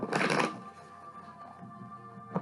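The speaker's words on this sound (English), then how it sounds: "we only have a couple more shuffles I'm going to do" Tarot cards are shuffled in one brisk riffling burst up close, then quieter handling and one short snap of the deck; no talking.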